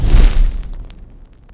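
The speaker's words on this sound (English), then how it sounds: "when you roll the body of the torch down another surface, such as another torch or your own body, fuel will spray off the wick and create a massive boom effect" A fire torch's fuel sprays off the wick into a single loud, deep whooshing boom that flares up close and fades quickly into a soft crackle, with no talking.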